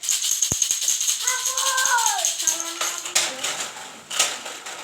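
A homemade rattle filled with roasted chickpeas is shaken in quick, light bursts of rattling clicks, close and fairly loud, with a voice talking over it.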